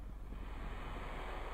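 A space capsule splashes down in the ocean in Kerbal Space Program, heard as a steady, loud rush of surf and wind with no speech.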